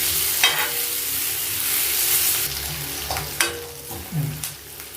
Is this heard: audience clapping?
no